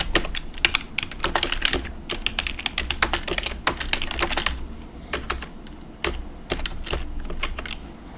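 Rapid, close clicking of a computer keyboard as someone types to log in to a Linux system, with irregular bursts of keystrokes and short pauses over a low hum.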